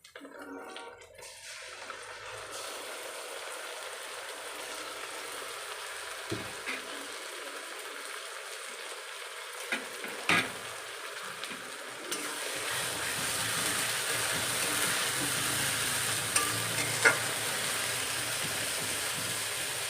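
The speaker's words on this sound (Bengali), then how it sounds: "আদা রসুনটাকে ভালো করে একটু কষিয়ে নিয়েছি।" Ginger garlic paste fries with onions in a pan while being stirred for chicken cooked with boiled coriander leaves. A steady, soft sizzle runs throughout, with a few louder scrapes and clinks of the spoon, and no talking.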